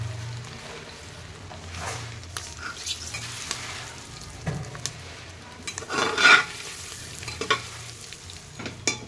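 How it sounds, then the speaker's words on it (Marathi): Onion sizzles as it fries for tempering inside a pressure cooker. The soft continuous frying is broken by intermittent scraping stirs and metallic clinks of utensil against the pot, and one louder burst comes midway. Nobody speaks. "मी आता इथे फोडणी टाकायला घेतली आहे। त्यासाठी कांदा टाकून घेतलेला आहे, त्याच कुकरमध्ये टाकलेला आहे मी"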